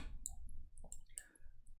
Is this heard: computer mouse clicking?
yes